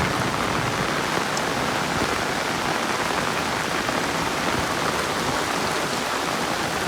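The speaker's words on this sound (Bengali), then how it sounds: "দেখেন পুকুর কি অবস্থার ভিতরে আছে প্রত্যেকটা, আর কি পরিমাণ বৃষ্টি হচ্ছে।" Heavy rain falling over village ponds, a dense, continuous hiss of drops on water and surfaces, steady and close with no voices.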